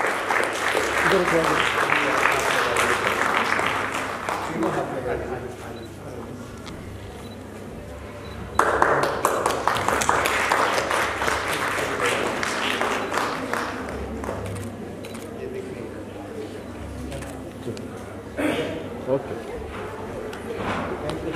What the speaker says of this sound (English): Please give him a huge round of applause.